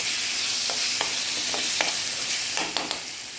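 Dry prawn masala being stirred in a frying pan, with a soft steady sizzle and several light scraping strokes of the spoon against the pan, close and fairly quiet, no voices.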